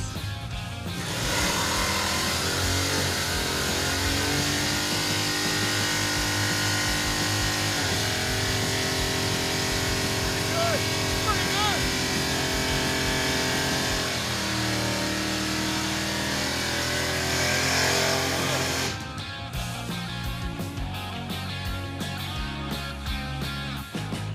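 The fuel-injected engine of the Crusher Impala, an old Chevrolet, fires up and revs hard, a loud close roar rising and falling in pitch for about twenty seconds before settling into a rough idle.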